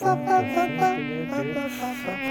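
A gnat buzzes loudly and close by, a continuous whining drone that wavers slightly in pitch.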